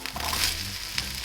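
Onions fry in butter in a pan, giving a steady, dense sizzle with a few soft stirring scrapes.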